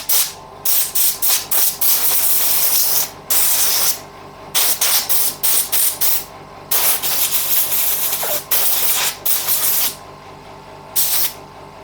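Bursts of aerosol brake cleaner sprayed onto a hydraulic disc brake caliper during a piston and seal overhaul, a long series of loud, close hissing blasts of varying length separated by short pauses.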